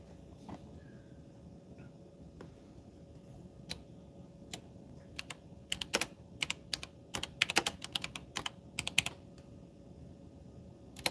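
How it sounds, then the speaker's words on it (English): Computer keyboard typing, sparse clicks at first that thicken into quicker, denser bursts of keystrokes, fairly faint and close with no talking. "I'm just typing some other stuff."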